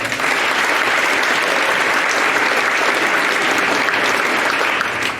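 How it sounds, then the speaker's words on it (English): Loud, dense applause from a large crowd honoring an undefeated JV football team at a coronation event, continuous and even throughout. "Please give them a round of applause."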